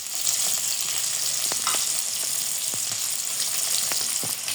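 Prawns and chopped onion fry in hot oil in a pan as a steady, dense sizzle, with a few sharp pops and crackles and light stirring scrapes scattered throughout, with no voices.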